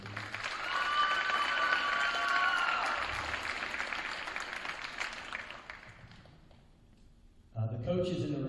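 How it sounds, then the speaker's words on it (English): Audience applause for the athletic boosters at a high school winter awards event; sustained clapping and some cheering that fades out, followed by a voice speaking. "So huge round of applause for the athletic boosters"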